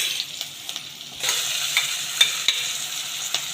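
Tomatoes go into a hot frying pan while making bateta poha, a bright hissing sizzle that swells after about a second, with light stirring scrapes throughout.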